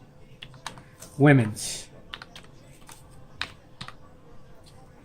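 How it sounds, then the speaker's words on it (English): Keystrokes on a computer keyboard typing a search query, with light, irregular clicks scattered through the span and a single spoken word cutting in near the start. "so we type in Ecko women's"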